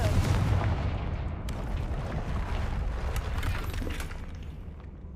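A Confringo blasting spell goes off in Hogwarts Legacy, a dense rumbling burst of fiery noise that rolls on steadily for several seconds and slowly thins out.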